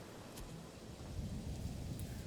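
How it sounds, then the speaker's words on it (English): Steady rain hiss with low rumbling thunder in the medieval city-building game Manor Lords, a continuous soft wash of rainfall with a rolling thunder undertone throughout. "Oh, it's raining again"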